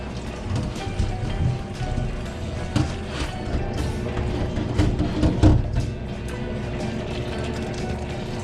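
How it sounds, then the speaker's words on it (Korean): Napa cabbage rinsed by hand in cold water in a home kitchen, making a steady, close wash of splashing and trickling with scattered louder sloshes and clunks. "여기 찬물에 헹궈줄게요"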